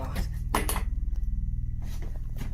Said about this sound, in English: a cabinet door opens and closes